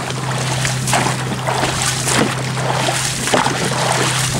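Dragon boat paddles stroke through water during a warmup drill, with rhythmic splashes and sloshing over a steady low engine-like hum outdoors.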